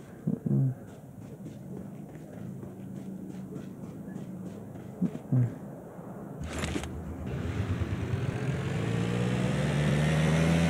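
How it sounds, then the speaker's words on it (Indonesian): A loud engine drone swells and roars over steady background rumble as a plane passes low overhead in PUBG Mobile, growing louder toward the end. "Itu pesawat kita bisa jatuhin gak sih?"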